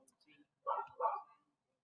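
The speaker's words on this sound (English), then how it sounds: "That sounds like my neighbor's dog is barking." A neighbor's dog barks twice in quick succession, muffled and moderately distant, the two short barks standing out against otherwise quiet surroundings.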